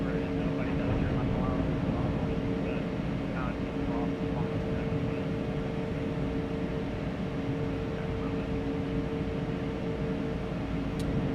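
The Synaptic A220 airliner's engines spool up for takeoff in a flight simulator game, a loud, steady roar with droning tonal whine that runs throughout while a voice talks over it.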